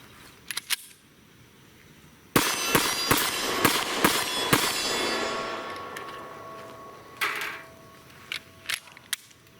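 Sharp pistol shots from a Smith & Wesson M&P Shield M2.0 converted to 357 SIG, a rapid string of about six loud cracks followed by a few sparser shots, with a quieter pair at the start.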